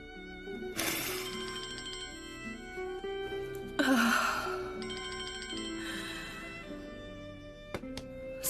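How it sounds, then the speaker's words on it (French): A telephone rings with an incoming call in a dubbed TV drama, sounding as repeated electronic ringtone bursts over several seconds, mixed with other noises. "C'est maman qui appelle, tu veux bien lui répondre, Dourou?"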